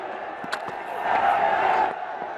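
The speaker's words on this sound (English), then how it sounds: "Good crowd in for this game." Stadium crowd at a Bangladesh Premier League T20 cricket match between Fortune Barishal and Dhaka Capitals, a distant roar that swells briefly in the middle and then settles, with scattered shouts and a few sharp knocks.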